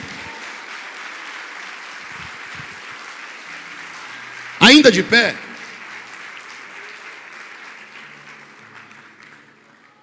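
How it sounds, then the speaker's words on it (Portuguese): A church congregation claps for Jesus in sustained, dense applause that fills the space, fading gradually toward the end, while a preacher's voice cuts through briefly in the middle. "Quantos podem dar um aplauso bem lindo ao Senhor Jesus?"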